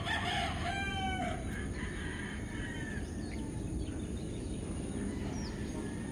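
A fighting rooster crows once near the start, a loud stretched call, then fades into a steady outdoor farm background with faint distant bird sounds.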